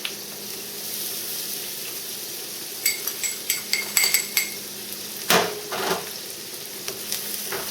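Garlic, minced rosemary, dried oregano and salt stirred in a hot pan for a chicken Vesuvio: a steady low sizzle with a series of close spoon scrapes and taps against the pan, clustered in the middle and tapering off.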